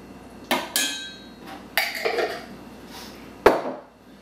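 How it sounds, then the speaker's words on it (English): Five spice chicken stirred in a pan, with a few sharp scraping clatters of a utensil against metal, spaced out with quieter sizzling between. "so just give it a nice stir"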